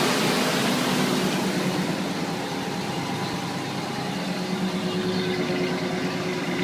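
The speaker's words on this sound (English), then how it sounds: "I like the exhaust note that comes out of it." A 2005 Ford Ranger's 3.0 engine with stock exhaust runs steadily nearby, a broad, constant rumbling drone without pauses or talk.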